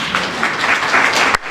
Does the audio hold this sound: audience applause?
yes